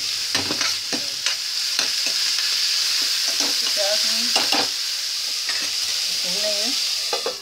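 Onions frying in a pan, a loud, steady sizzle close by with repeated scraping stirs and clanks of a spoon against the pan throughout.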